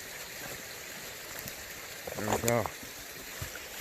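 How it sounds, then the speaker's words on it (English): A small trickling waterfall outdoors gives a steady, soft, even rush of water, with a voice speaking briefly over it. "Nice, beautiful little trickling waterfall over there."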